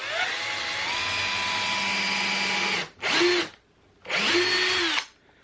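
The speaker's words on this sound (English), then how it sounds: "put a pilot hole into it so I don't split this wood" A power drill bores a pilot hole into a wooden French cleat in a workshop: a long, loud steady whine runs for about three seconds, followed by two shorter bursts with brief pauses between, close up and without speech.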